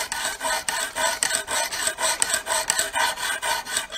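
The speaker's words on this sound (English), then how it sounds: "This is a Lansky sharpening system." A knife blade is drawn across the medium stone of a Lansky sharpening system, set to 25 degrees, making close, rhythmic rasping strokes, roughly three per second, that repeat steadily with no talk.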